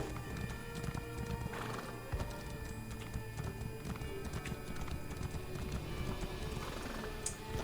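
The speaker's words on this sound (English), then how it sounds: "Jumping on my horsey." Horse hooves clip-clopping steadily in Elder Scrolls Online, with a horse whinnying over continuous game ambience and background music, no talk.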